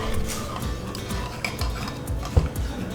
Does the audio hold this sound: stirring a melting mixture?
yes